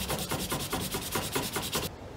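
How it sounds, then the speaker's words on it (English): Fine sandpaper rubs back and forth over the waist of a leather shoe in quick, even strokes, about eight per second, close and steady with no talking. "we're just going over and over with this fine sandpaper, starting with some slightly rougher grit just to get some shape"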